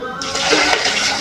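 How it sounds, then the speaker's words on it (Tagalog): Turkey brine made with water and spices being poured slowly over ice, a steady rushing, splashing pour that runs continuously and close by for about a second. "Ibubuhos na po natin sa ice. Dahan-dahan."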